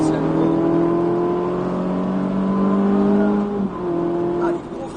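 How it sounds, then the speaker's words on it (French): A Ferrari 458 race car engine revs hard and steady on a racing circuit, its high whine climbing in pitch as it accelerates, loud and close. "Allez, accélération ici à nouveau."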